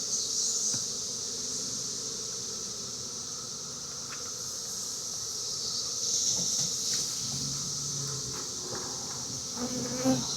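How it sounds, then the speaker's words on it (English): Honey bees from a cutout colony being shaken off a frame held in chicken wire, a dense, steady swarm buzz that fills the whole stretch with a few sharper close passes. "There's a lot of bees hanging onto that."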